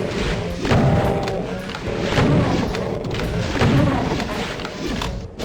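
Super shotgun in the DOOM II video game blasts repeatedly with loud, deep thudding booms about every second, mixed with the clatter of in-game action.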